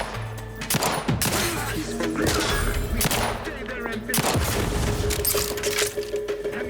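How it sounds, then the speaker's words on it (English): A grenade explosion and rapid gunfire in the video game The Outer Worlds 2, with bursts of shots and heavy booms clattering in quick succession over game music. "Grenade? Away!"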